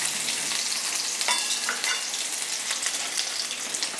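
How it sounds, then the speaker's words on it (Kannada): Onion and masala frying in a pan for bottle gourd kootu, a steady broadband sizzle with scattered crackles and pops, close and loud, with no talking. "ಈಗ ಇದನ್ನೆಲ್ಲ ಸ್ವಲ್ಪ ಫ್ರೈ ಮಾಡ್ಕೋಬೇಕು"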